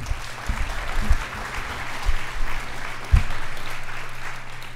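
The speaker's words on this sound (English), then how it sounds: "give her a warm round of applause" A community-forum audience breaks into warm, continuous applause, a dense wash of clapping over a low steady hum with a few thumps, sustained throughout.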